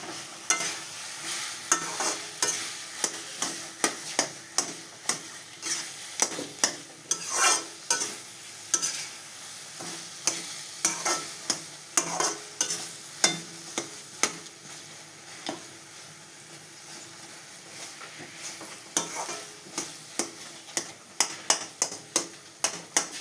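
Taro being stirred as it fries in a pan, a steady run of close scraping, clattering strokes over a constant sizzle, with no voices.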